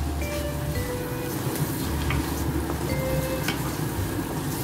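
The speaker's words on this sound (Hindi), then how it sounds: "थोड़ा सा भूनेंगे फॉर 2 मिनट्स ताकि इनका कच्चापन निकल जाए" Shredded cabbage with red and yellow peppers frying in a pan for a Tibetan-style vegetable thukpa, giving a steady soft sizzle and hiss with a few faint clinks of utensils.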